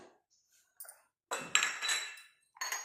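Old cups, around 24 years old, clink against each other while being handled, giving a few short, close chinking knocks with quiet pauses between them and a louder cluster of clinks in the middle.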